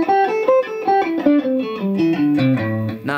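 A distorted electric guitar runs up and down a plain scale, one even note after another in a steady, mechanical rhythm, loud and alone without any talking.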